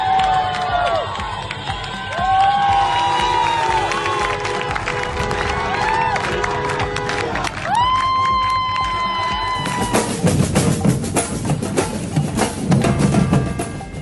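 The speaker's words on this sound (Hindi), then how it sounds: "महिलाएं रात में कार पर खड़े होकर ताली बजाकर प्रदर्शन करती हुई भी नजर आईं।" Women stand on a car at night in a street protest over Mahsa Amini, clapping and chanting amid crowd noise, with shouting voices and a denser burst of clapping and cheering toward the end.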